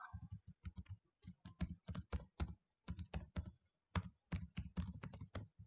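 Someone types on a computer keyboard in quick, irregular bursts of crisp clicks and taps, close and fairly quiet, with brief pauses between groups of keystrokes and no talking.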